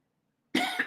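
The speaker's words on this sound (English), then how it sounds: "Does anything help with your cough?" A single sharp cough bursts out after half a second of silence, followed by a couple of quick, rougher coughs, close and loud.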